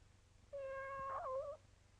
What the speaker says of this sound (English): Tabby is Mrs. Brown's cat.